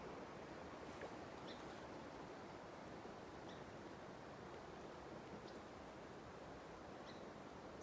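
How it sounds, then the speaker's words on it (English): Steady, faint rushing of a slow-moving creek at Rock Creek in the Eastern Sierra, with a constant hiss, no voices, and a few small chirps far in the background. "It's just this beautiful, slow moving creek."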